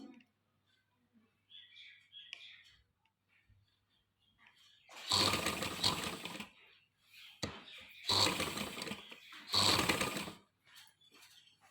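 A sewing machine stitches fabric for a farshi shalwar in three close, loud runs of rapid whirring separated by short pauses, with faint soft sounds in the quieter stretches.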